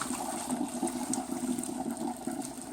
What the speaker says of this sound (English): We're just gonna slowly throw all this water in here.